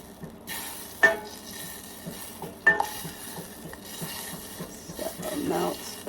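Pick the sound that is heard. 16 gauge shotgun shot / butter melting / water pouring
butter melting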